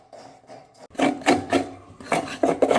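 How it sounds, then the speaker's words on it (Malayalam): Coconut being grated by hand in a Kerala kitchen, rough rasping scrapes in quick bursts, a quieter start then a run of close, loud strokes, with no talking. "അവിടെ തേങ്ങ ചിരണ്ടുന്ന ശബ്ദമായി കേൾക്കുന്നതേ"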